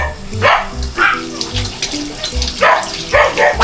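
String beans are rinsed under a running kitchen tap, a steady close stream of splashing water with bursts of louder sloshing as the beans are handled. Low hum sits underneath and there is no clear talk.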